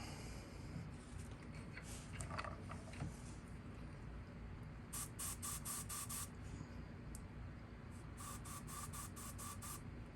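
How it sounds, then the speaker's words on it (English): An airbrush sprays paint onto a fishing lure with custom armor and rivet detailing, giving a steady, close hiss throughout with short bursts of brighter spray partway through and near the end. "It's all about just learning control of your airbrush"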